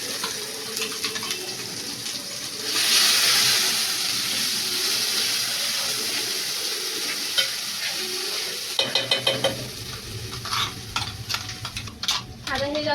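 Ground masala paste for amti roasting in a pan, giving a loud sizzle with stirring scrapes, then rapid clinks and splashy water-like noises toward the end; no talking.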